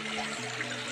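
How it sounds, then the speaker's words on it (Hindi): Water rushes steadily outdoors at a scenic spot near a waterfall, a continuous broadband hiss with no break over the short stretch. "यहाँ पर पानी पानी देख लो भाई कहाँ से आ रहा है पानी"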